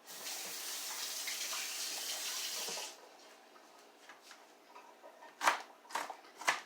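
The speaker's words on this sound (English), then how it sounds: "Gonna give my hands a quick rinse because the onion's strong." Hands rinsed under a running kitchen tap after chopping onion: a steady gush of water for about three seconds, then the flow stops, leaving a few drips and soft splashy handling sounds.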